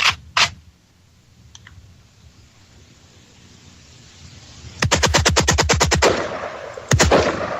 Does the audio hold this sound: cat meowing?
no